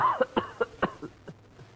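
A short burst of several rapid coughs, close and fairly quiet, trailing off into softer ones.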